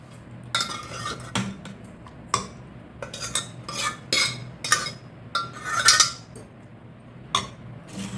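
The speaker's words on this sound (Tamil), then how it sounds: "இப்போ இந்த மிக்சி ஜாரில் இதை போட்டலாம்" Horse gram soup mixture is tipped into a mixer grinder jar, with a series of sharp clinks and scrapes of a spoon against metal at irregular intervals, close and crisp, with no talking.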